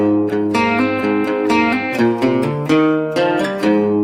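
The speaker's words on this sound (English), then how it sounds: "what I wanted to do was go ahead and add an electric guitar" Electric guitar plays a repeating pop country riff of quick plucked notes over a sustained low tone, clean and steady, close and with no voice over it.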